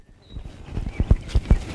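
A horse trots, its hooves clip-clopping in a steady two-beat rhythm of four or five clear thuds that build from soft to loud, close by with no voices over them.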